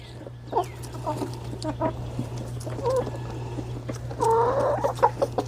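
Chickens clucking inside a chicken pen, with several short irregular clucks and squawks close by, growing louder toward the end over a steady low mechanical hum.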